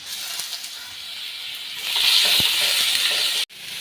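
Crushed ginger and garlic paste dropped into a hot pan for a clam meat roast, a soft hiss that swells into a louder bright sizzle, close, then cuts off abruptly near the end.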